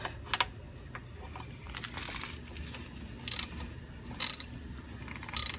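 A ratchet tightens the drain plug on a Volkswagen Tiguan transmission, quick bursts of clicking pawl sounds separated by short pauses, close and clear over faint background noise, no talking.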